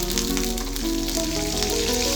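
Curry leaves hit hot oil in a tempering with mustard seeds, cumin, green chillies, dried red chillies and garlic, giving a steady, close hiss and sizzle with crackly spatters over a faint low hum.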